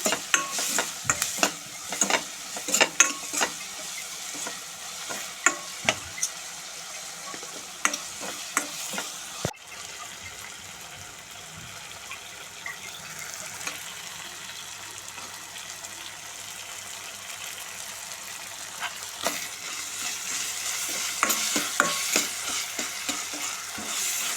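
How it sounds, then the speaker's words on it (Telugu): Chopped onion pieces fry with salt in a pan, a steady soft sizzle punctuated by repeated scraping stirs of a spoon, close by with no talking. "సాల్ట్ కూడా వేసుకుని దాన్ని శుభ్రంగా ఉల్లిపాయ ముక్కలన్నీ మగ్గేంత వరకు వేపుకోవాలి"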